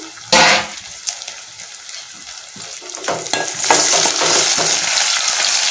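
Tomatoes drop into a hot pan and start frying, a loud burst of sizzling at first that eases, then builds again into a steady, close crackle with a few stirring clatters and no talking.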